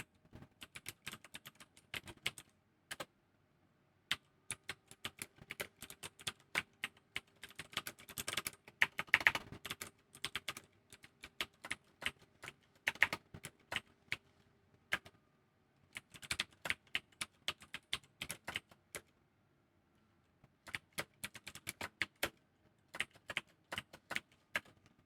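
Python code typed on a computer keyboard: quiet, close key clicks come in uneven bursts with short pauses between them.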